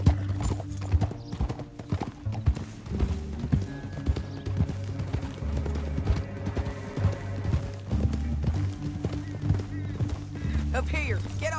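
Horse hooves clip-clopping at a run in Red Dead Redemption 2, a continuous rapid rhythmic pounding with occasional whinnies, heard over game music and ambience.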